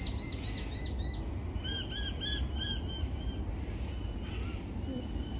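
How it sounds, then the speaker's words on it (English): Noisy miner birds calling in a Sydney botanical garden give repeated harsh, rapid squawking bursts in clustered series over steady background ambience, fairly close and continuous. "the birds you hear behind me are the little noisy miners"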